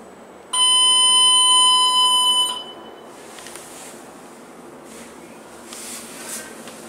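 Orona traction elevator chime in a car park, a single bright, clear electronic tone holding for about two seconds, then fading into quiet background hum with faint clicks.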